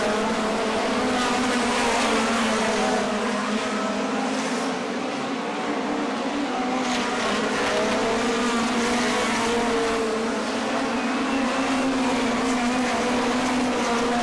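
Speedway sprint cars race on a dirt track during the final lap, their engines blending into a continuous loud, high-pitched roar with shifting tones as the pack circulates.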